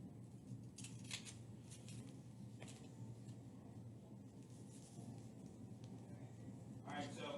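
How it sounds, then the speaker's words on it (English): Scissors snip through strips of tape in a quiet room: a few crisp, short cuts scattered through the clip at low level, over a steady background hum. "So you're just going to size up the tape, and then you're going to cut it."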